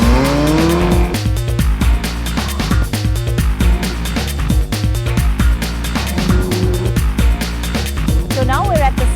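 Ferrari sports car driven hard on the Buddh International Circuit track, engine revs climbing and dropping through gear changes with squealing tires, loud and close over a bed of music.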